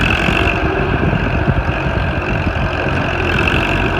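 A Farmall Super C tractor engine idles with a steady, loud, close-up rumble, running evenly the whole time with no talking.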